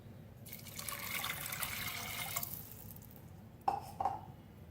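A glass of water is poured onto a cup of boiled rice in a pan while making kheer, a soft splashing trickle for about two seconds, followed by a couple of faint clinks, all quiet and close.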